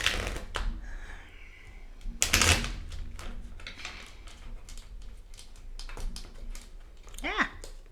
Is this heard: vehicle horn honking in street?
no